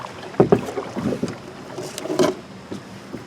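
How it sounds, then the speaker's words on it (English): A canoe is paddled along the Tuscarawas River in Ohio, with a few soft splashing paddle strokes and dripping water against light wind on the microphone, close by and without speech. "I goon stroke when I'm paddling with my right, and I J stroke when I'm paddling with my left."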